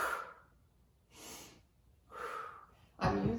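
Slow, deep breathing during a Pilates exercise: three long airy breaths rising and falling at an even pace, then a sharper, fuller breath, all close and alone.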